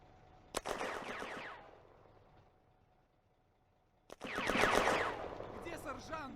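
Autocannon fire from a Sd.Kfz. 222 armored car in a WWII Eastern Front tactical game during an assault on a lake house in a village: two sharp reports, each followed by a dense rattling burst of battle noise.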